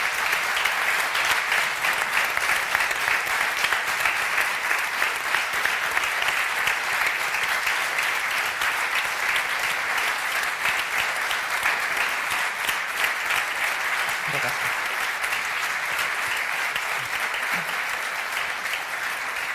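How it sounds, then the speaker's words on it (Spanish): Sustained audience applause at a public event, an even, dense clapping texture from a sizable crowd that stays strong and steady for nearly twenty seconds with no speech. "Os pido un fuerte aplauso para todos ellos y ellas con nuestro reconocimiento"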